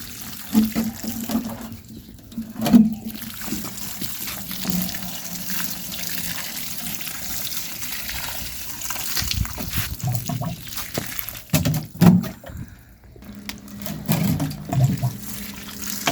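Water splashes and trickles steadily as plants are watered by hand in a home garden, a soft continuous flow with occasional louder gushes, close by and without talk.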